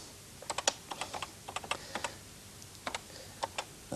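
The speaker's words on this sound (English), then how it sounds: "we position the cursor itself, that's the flashing line, using the cursor keys, over where we want to start typing" Typing on a microcomputer's keyboard: quick irregular clusters of sharp key clicks, close and fairly clear, with brief pauses between bursts and no voices.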